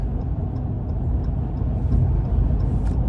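Inside a car driving on the road, a steady low engine and road rumble fills the cabin, with faint, regular ticking above it.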